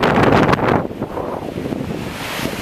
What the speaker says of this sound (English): given these windy conditions